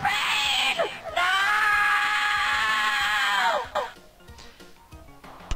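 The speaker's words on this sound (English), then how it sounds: "That scream of yours is actually quite impressive" Loud, drawn-out alien scream from the space game The Ur-Quan Masters, a harsh wavering wail held for a couple of seconds, then falling away into quieter voice.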